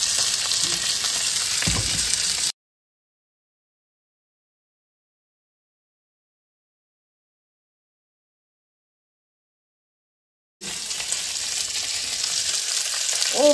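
Ravioli frying in a baking pan, a loud continuous sizzle heard close up in two stretches separated by a long silent gap, with some stirring noise.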